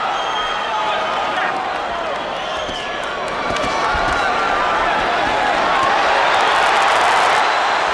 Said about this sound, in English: Crowd coming alive as Cotto connected with a couple of left hands.